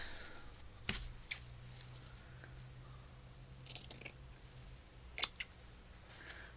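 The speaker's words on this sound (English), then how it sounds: "Big scissors." Big scissors cut paper during a perfume-themed journal craft session, giving a few faint, sharp snips spaced apart over a quiet background.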